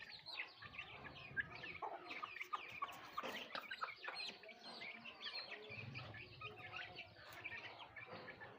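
A flock of hens clucks and chirps continuously around chicks at feeding time, a dense, busy chatter of farm fowl that is fairly faint and steady throughout.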